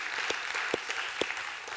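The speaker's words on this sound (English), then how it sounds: "Applause for them, and I hope you're watching, also well deserved." Applause for graduates at a 2020 graduation ceremony of the KIT Royal Tropical Institute, a soft steady patter of clapping with a few sharper claps standing out, heard alone at moderate distance.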